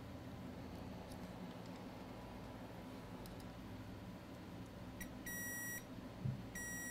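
Multimeter in diode mode beeping on a shorted laptop motherboard, a steady high electronic tone sounding twice near the end, close and clear over faint background hiss.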